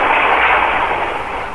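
A loud, dense roaring burst from a cannon exploding, heard as a sustained rushing blast that fills the moment and slowly eases off, with no talk over it.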